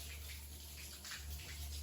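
Water runs in a faint, continuous stream with a soft splashing texture and no other prominent sounds.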